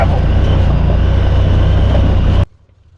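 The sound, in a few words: Kawasaki KRX UTV driving on a gravel trail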